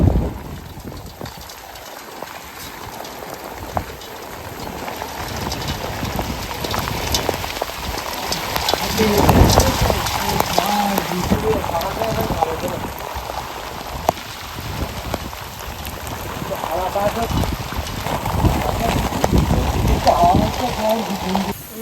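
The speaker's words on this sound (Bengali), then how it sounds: "বাইরে প্রচন্ড বৃষ্টি হচ্ছে," Heavy rain pours down in a dense, steady hiss that rises and swells at times, with faint voices talking underneath.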